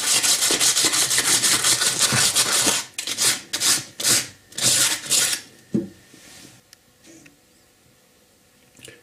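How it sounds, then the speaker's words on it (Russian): Sandpaper rubbing the ends of roe deer antlers, a dense continuous rasping for the first few seconds, then a run of shorter separate strokes that fade into quiet scraping and near silence. "Наждачной шкуркой зачищу концы рогов."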